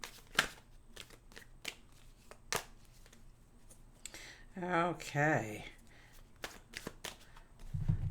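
Tarot cards are riffled and tapped in a run of sharp, crisp shuffles, with a brief spoken word partway through.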